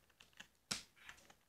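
Keys clack on a new computer keyboard during an online game, sparse quiet taps broken by one sharp, louder keystroke.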